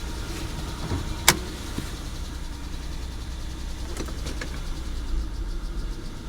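A 2007 VW Passat engine runs steadily at close range with a low, continuous rumble, broken by a sharp click and a few faint knocks that might hint at a misfire.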